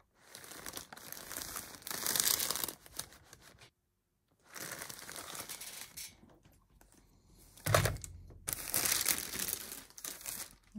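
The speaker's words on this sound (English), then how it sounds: "Iron on a reasonably hot setting." A hot iron pressed over wax paper on fabric drapes for a four-poster doll house bed, giving bursts of crinkling, rustling paper noise separated by pauses, close and fairly quiet.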